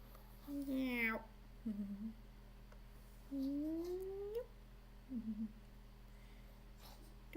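A human voice imitates a cat's meow several times. The drawn-out, rising and falling calls come in separate bursts over a quiet background hum.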